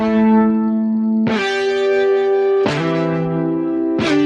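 Sustained electric guitar chords with a synthetic, robotic vocoder tone, struck three times and left ringing, loud and alone.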